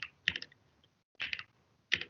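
Bursts of typing on a computer keyboard while entering Python code, close and crisp clusters of key clicks separated by short silences, with no talking.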